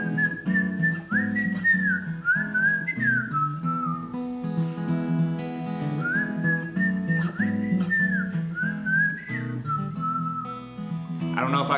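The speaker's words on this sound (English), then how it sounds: "I don't know if I can whistle" A person whistles a wandering melody over a steady instrumental backing, the whistled tune rising and falling clearly throughout.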